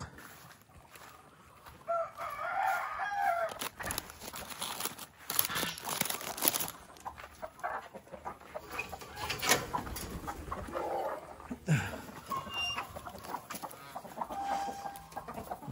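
Chickens on a farm cluck and cackle nearby, with scattered calls and rustling over a quiet background, faint activity continuing throughout.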